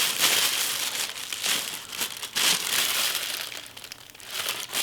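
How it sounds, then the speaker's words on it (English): Tissue paper crinkles and rustles close up while lip gloss is blotted off the lips, a continuous crackling crumple that swells and fades in uneven waves. "I'm just using the tissue paper."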